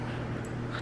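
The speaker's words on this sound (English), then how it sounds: "this is my dog, Roscoe." A pet dog gives a short, close whimpering vocalization lasting under a second, heard alone without any talking.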